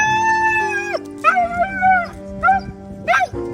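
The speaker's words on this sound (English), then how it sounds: "Listen how happy this Ukrainian dog is after finally reuniting with his owner in Kyiv." A happy dog reunited with its owner in Kyiv howls and whimpers loudly and close, a long high whine followed by several rising and falling yelps, with no talk over it.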